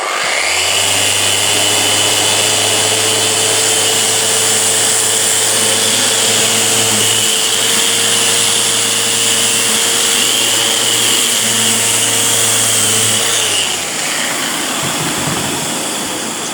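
Festool Rotex sander with 40 grit paper grinding planer marks off wood, a loud continuous droning whine held steady for most of the time, then cutting off near the end.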